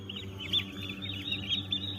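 A cluster of young Big 6 and Bronze turkey poults peep in high, rapid, overlapping chirps while feeding on grain, close and continuous, over a low steady background hum.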